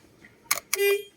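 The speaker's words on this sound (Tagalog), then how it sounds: "Tutunog yan pag prines ko tong busina" A couple of sharp clicks followed by a short, close car horn honk from a 2010 Hyundai Getz after a boss kit steering wheel adapter installation.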